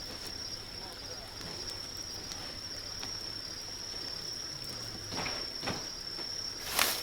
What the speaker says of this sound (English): Definitely water.